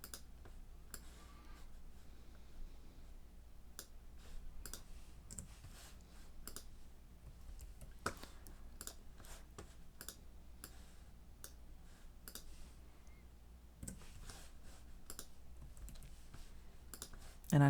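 Rapid, irregular computer clicks and keyboard taps while questions are pasted, a steady run of sharp, close ticks over a quiet background hum.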